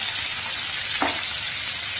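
Onions sizzle steadily in a pan for pulao, a constant bright frying hiss with one brief stir or scrape in the middle.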